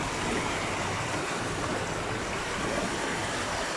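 Floodwater rushes and roars in a constant, dense wash of noise that does not let up, loud and close, with no voices.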